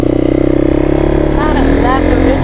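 Dirt bike motorcycles rev and pull away up close with a loud, throbbing engine drone, and voices call out briefly over the engines.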